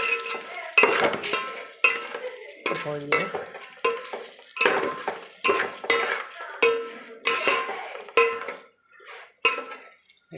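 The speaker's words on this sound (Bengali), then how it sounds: "লাল লাল করে একটু ভেজে নেব মুগের ডালটা।" Washed mung dal being dry-fried and stirred in a pan: repeated bursts of scraping and clattering spatula strokes over a light sizzle, in an uneven rhythm, with a brief spoken word.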